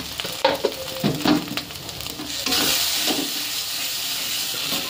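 Potol and dry fish bhorta stirred in a hot pan, with scraping spoon strokes over loud steady sizzling and hissing that swells into a constant fry.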